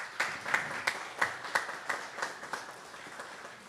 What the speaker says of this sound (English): we also want to recognize the families and to thank them with a round of applause